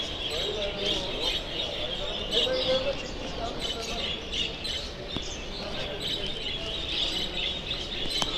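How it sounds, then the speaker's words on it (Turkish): Budgerigars at a bird competition and fair in Ankara's Altınpark make a continuous, distant, high-pitched chattering of many birds that forms a steady wash of chirps across the hall. "Bakın muhabbet kuşlarının sesleri geliyor."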